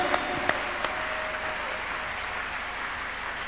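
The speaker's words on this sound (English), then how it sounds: "Clap your hands on the God of the chosen." Congregation clapping at a Tuesday miracle church service, a steady wash of many hands with a few sharper claps near the start, moderately distant.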